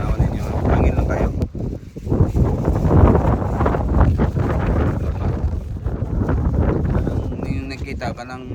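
Strong wind buffets the microphone outdoors in Hamamatsu, Japan, a loud continuous roar with gusty swells throughout, drowning out any other detail.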